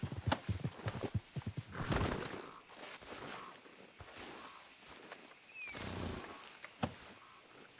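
Horse hooves clip-clop and a horse whinnies in the Red Dead Redemption 2 video game, a run of hoofbeats early on, then muffled game ambience with a brief neigh near the end.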